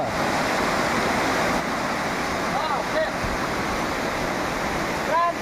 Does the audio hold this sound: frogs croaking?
no